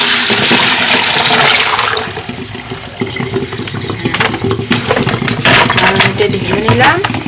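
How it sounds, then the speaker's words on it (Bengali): Soaked new potatoes tipped with their water into a colander, a loud rushing pour and splash followed by lighter dripping and clattering, with a voice talking over it. "এগুলো এখন এই যে একটা ঝালনির মধ্যে ঢেলে নিব।"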